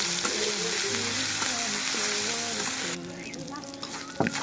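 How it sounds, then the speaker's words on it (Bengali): Ginger, garlic and cumin paste sizzling hard in hot oil, a loud continuous crackle with stirring scrapes, softening toward the end, a voice talking over it. "এই যে আদা রসুনটাকে হচ্ছে ভেজে নিয়েছি।"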